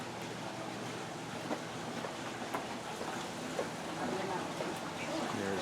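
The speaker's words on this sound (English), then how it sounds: "There's the water wheel working away right there." A water wheel turns at a working mill, giving a steady wash of rushing, splashing water with faint indistinct voices in the background.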